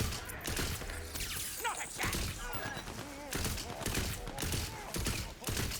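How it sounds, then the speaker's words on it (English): Gunfire aimed at a rock in Tiny Tina's Wonderlands, a rapid string of shots and thumps running steadily through the whole stretch, with a voice talking over it. "I'm shooting the rock."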